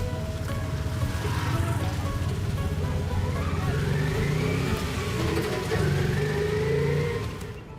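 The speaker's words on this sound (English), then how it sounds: "Tuk-tuk. Here's my ride." A tuk-tuk engine running on a street in Cambodia, a loud steady motor drone with rising revs and the rush of moving traffic around it.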